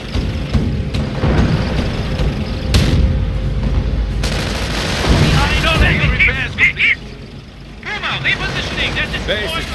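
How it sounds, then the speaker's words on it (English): Gunfire and explosions hammer a base under attack in the Company of Heroes WWII strategy game, loud bursts and heavy blasts cracking through the first half while voices call out over the battle. "Base is taking fire."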